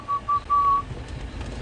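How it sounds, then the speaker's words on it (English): An orange-breasted bushshrike gives three clear whistled notes, two short and one longer, followed by quiet background rustle, at Djuma and Arathusa. "It's an orange-breasted bushshrike."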